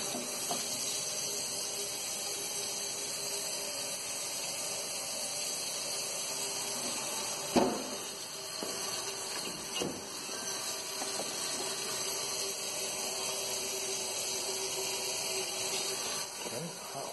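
Hot water running from a tap in an empty Salt Lake City rental house, a steady broadband hiss of flowing water continuing throughout with a couple of brief knocks and a faint voice.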